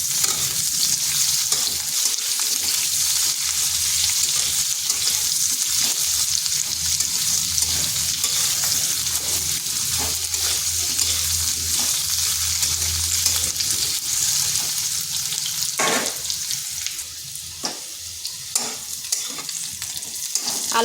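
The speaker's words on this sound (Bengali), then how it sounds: "আঁচটা মিডিয়াম আঁচে রেখে এই আলু আর গাজরকে ভেজে নিচ্ছি" Potatoes and carrots fry over medium heat for a vegetable daliya khichuri, a steady bright sizzle running throughout with occasional scraping stirs and a few sharp clinks near the end.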